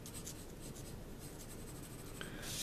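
A pencil shades a graduated tone on paper for a drawing of a cylinder, giving a quiet, close, continuous scratchy rasp with a few faint strokes and a brief louder scrape at the end.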